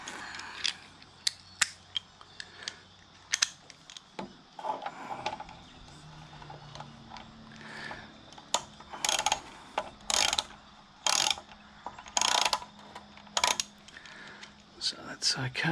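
A ratchet clicks in quick bursts while bolts are worked off the fuel tank assembly of an old Rover mower, with sharp metallic taps and pauses between turns, close and fairly quiet.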